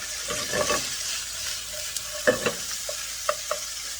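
Chicken fried rice being stir-fried in a hot pan over high heat: a steady hiss of sizzling with scraping spatula strokes and a few sharp clinks of metal on the pan, no talking.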